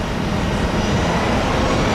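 Steady, loud jet engine roar with a broad low rumble, holding constant and building slightly over the two seconds, as a United airliner spools up its engines for takeoff at Tampa International Airport.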